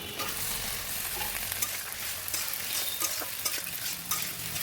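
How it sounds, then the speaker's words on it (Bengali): Fried pointed gourd and potato pieces are stirred into spice paste frying in oil in a pan, a steady crackling sizzle broken by repeated spatula scrapes and clicks. "মশলা থেকে তেলটা ছেড়ে দিয়েছে, এখন ভেজে রাখা পটল আলুটা দিয়ে দেবো।"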